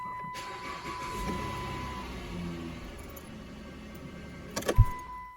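A Dodge Grand Caravan minivan engine cranks and settles into a steady idle, with a brief clunk and jangle near the end, heard up close and alone.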